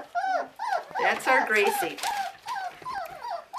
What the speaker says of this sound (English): We'll get to the one that's crying in a minute